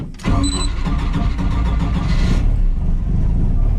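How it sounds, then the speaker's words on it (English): A turbocharged boat engine swapped into an S10 pickup cranks and fires up cold inside a garage, catching almost at once and settling into a loud, steady rumbling idle close by. "Let's turn the key over, providing I'm not gonna smoke my garage out."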